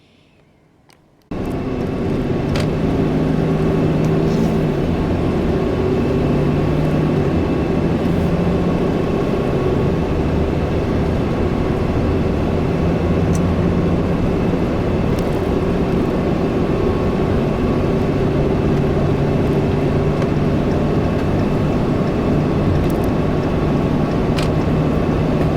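Ram 5500 truck with 4.88 gears cruising on the freeway at about 65 mph, a steady loud drone of engine and road noise that starts abruptly and holds constant.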